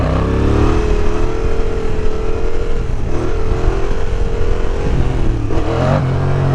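Yamaha MT-07 motorcycle fitted with a new aftermarket exhaust, a loud, close engine note rising and falling as the bike revs and pulls away.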